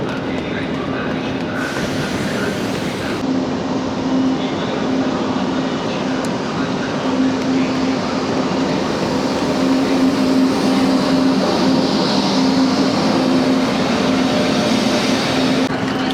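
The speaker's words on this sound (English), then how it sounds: "Frecciarossa is arriving." A Frecciarossa high-speed train rolls into a station in Italy, a steady sustained rumble with a faint tonal hum lasting throughout, moderately loud and continuous.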